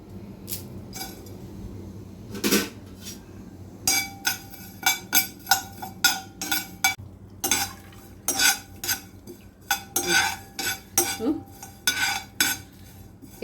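Broken vermicelli is roasted in a pan while a utensil scrapes and clinks against the metal in quick irregular bursts, loud and close with short pauses between strokes.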